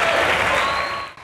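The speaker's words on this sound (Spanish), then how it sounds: "Por eso les pido un fuerte aplauso para estos dos grandes de la historia moderna de la ciudad, Luis Valiente y Manuel Jaramillo." Loud, dense applause from a large audience at the Mérida fair in 2019, a steady wash of clapping that fills the short moment and fades slightly at the end.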